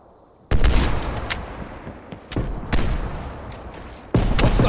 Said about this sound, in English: Hostile snipers working.